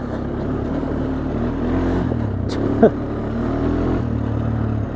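A Honda Foreman 450ES ATV engine idles steadily on two-year-old fuel, a continuous low rumble close by with a brief louder blip near the middle.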